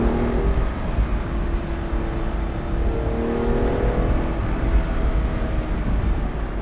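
Engine of a 2007 Aston Martin DB9 sports car revs loudly while driving through corners, a continuous throaty roar rising and falling in pitch, heard alone without voices.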